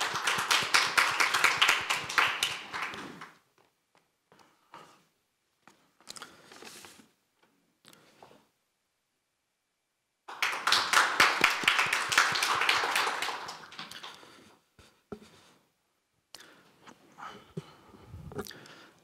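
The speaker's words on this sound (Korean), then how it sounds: "연설 박수로 들어보겠습니다" An audience at a Korean youth speech contest claps in two hearty bursts of applause, each lasting a few seconds, with scattered lone claps and near quiet between them.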